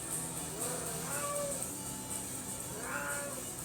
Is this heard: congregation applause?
no